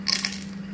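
Peppercorns dropped into a blender jar, a quick cluster of small hard clicks and rattles lasting a fraction of a second over a low steady hum.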